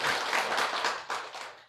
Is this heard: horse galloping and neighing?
no